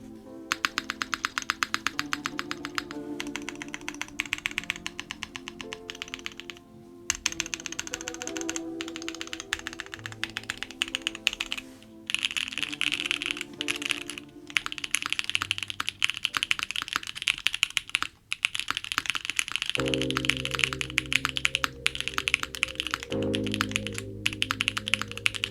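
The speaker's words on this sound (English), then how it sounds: "do a little tinkling on the keys for you guys." Rapid typing on a QK75 mechanical keyboard, with steady close clacks and taps that run almost unbroken, sometimes in quicker flurries with brief pauses, and no talking.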